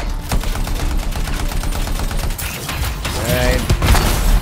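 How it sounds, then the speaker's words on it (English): Rapid mechanical gunfire from a turret in the video game Anthem, a steady rattling burst running throughout, loud and dense, with a few brief tonal game effects near the end. "Oh, it's a turret."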